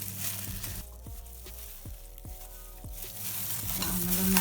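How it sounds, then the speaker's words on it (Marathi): Ginger garlic paste frying in hot oil for chicken cafreal, a close, steady sizzle with several sharp stirring clinks and scrapes, and the sizzle swells louder toward the end. "आलं लसणाची पेस्ट टाकते मी."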